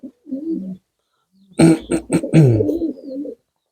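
Pigeons in a ground-level pigeon loft with a mesh-covered base give a soft low murmur, then a fuller burst of layered cooing and throaty calls close by.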